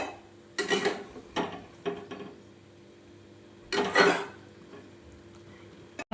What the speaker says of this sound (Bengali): ঢাকনা খুলে দেখে নেব লাউটা আমার সেদ্ধ হয়েছে কিনা